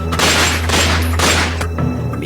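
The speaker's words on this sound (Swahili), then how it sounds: "Milio ya risasi yasikika kwa mujibu wa baadhi ya watu waliokuwepo" Gunfire on a city road at night, a sustained burst of loud, dense booming shots that fills the whole clip, close and harsh over a steady low rumble.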